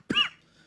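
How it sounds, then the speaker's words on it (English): A single short cough or throat-clear, close and fairly loud, followed by a brief quiet tail with no talk. "I'm coughing from the excitement"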